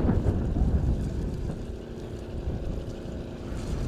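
A deep-sea fishing boat passes Pamban bridge, giving a steady low engine drone and water rumble with some wind buffeting on the microphone, fairly close and continuous with no talk.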